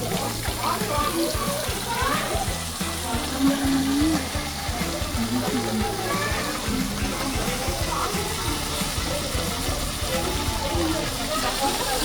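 Chicken wings fry on a flat tawa pan, giving a continuous crackling sizzle and hiss throughout, with people talking over it.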